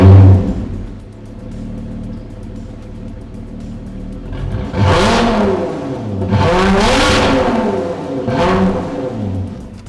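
A Lotus Emira's supercharged Toyota 2GR 3.5-litre V6 sits at a steady idle, then is revved hard several times, each blip swelling to a loud rasping peak and falling back, close by with no talk.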